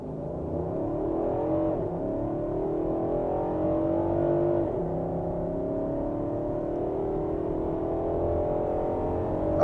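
A Nissan Patrol Nismo 2021 SUV engine revs up hard and pulls through rising gears at a drag-race launch at Dubai Autodrome, a steady loud mechanical roar building as it accelerates.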